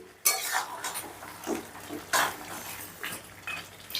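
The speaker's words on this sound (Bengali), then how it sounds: "এবারে গ্যাসের আঁচটা মিডিয়ামে রেখে ধরো 9 থেকে 10 মিনিটের মতন চিকেনটা আমি কষে নেব" Chicken stir-fries in a pan over medium heat, with a metal spatula repeatedly clanking and scraping against the pan in irregular strokes over a soft, continuous sizzle.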